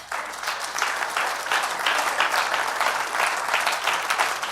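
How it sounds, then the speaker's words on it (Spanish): A church congregation bursts into sustained applause, a dense wash of many hands clapping steadily at a fairly loud, even level with no clear voices on top. "denle un aplauso a Dios"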